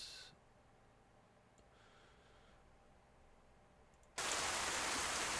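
Rain heard as a faint steady hiss in the background, with a sudden jump to loud, dense static-like rainfall in the last second.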